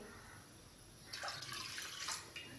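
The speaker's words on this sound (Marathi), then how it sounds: "त्याच्यामध्ये आपण इथे दोन वाटी पाणी घालून घेणार आहोत" Water poured into a heating kadhai to make sugar syrup for balushahi, a soft gushing splash that begins after about a second of near-silence and runs steadily to the end at low volume.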